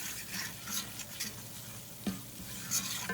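Flour browning in a pan as the base for Southern gravy, stirred steadily, giving a soft continuous sizzle with scraping strokes and no voices.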